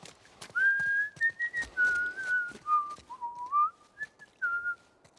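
A character in The Last of Us whistles a wavering, tuneful melody up close, with clear sustained notes broken by short pauses and faint background clicks.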